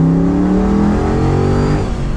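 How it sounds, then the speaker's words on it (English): A Ford Bronco's Coyote V8 with custom headers and exhaust revs hard, a loud, close, rising engine roar with layered exhaust harmonics under acceleration. "That Coyote V8, especially with the custom headers and exhaust, sounds really good in this thing."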